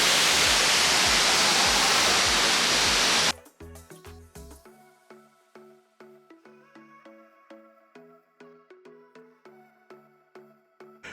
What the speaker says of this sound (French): Première vue sur la dite cascade